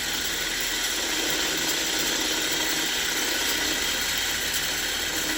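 A spinning fibre wheel polishes a cuckoo clock part with a steady, loud grinding whir, continuous and close, with no pauses.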